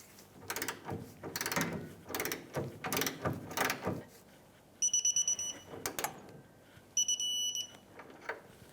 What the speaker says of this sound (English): 18mm socket, and we're going to torque this to 46 foot-pounds